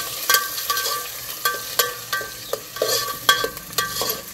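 Onions and green chillies fry in a pan for potato pulao, with a soft sizzle broken by repeated scraping stirs of a spoon, close and clear.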